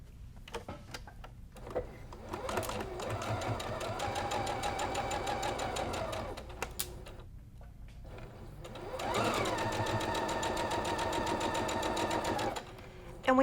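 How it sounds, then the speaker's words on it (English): A sewing machine stitches a seam on a Friendship Star quilt block in two long, steady runs, with a short stop and light clicks between them. "we're going to just go sew this seam and then come right back and add the bottom row"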